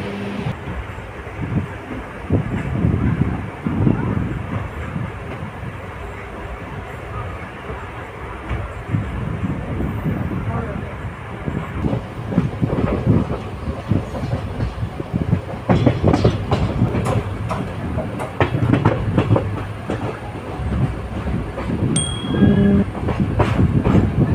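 Inside an unreserved coach of the Tambaram–Villupuram MEMU express, a steady loud rumble and clickety-clack of wheels on rails fill the carriage, swelling heavier in the second half.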